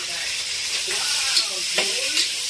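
Garlic and ginger frying in a pan for a mung bean dish, a steady loud sizzle with a few stirring scrapes and clicks breaking through, close and without talk.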